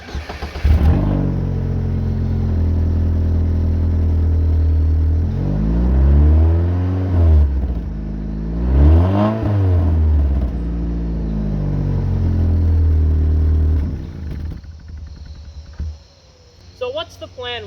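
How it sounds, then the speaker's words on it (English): A high-mileage 2007 Pontiac Solstice engine idling close by and revved twice in rising and falling sweeps, settling back to a steady idle before cutting off near the end. "The car does sound very good as well."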